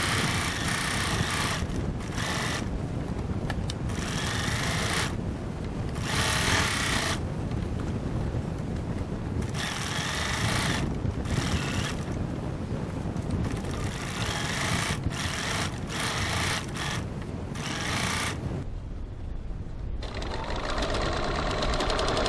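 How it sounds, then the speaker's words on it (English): A sewing machine stitches a second row of stitching on a boot-shaped fabric gift bag, running in a loud, steady close-up whir that stops and starts in several short pauses. "now I'm going to stitch my second row of stitching right next to the first row"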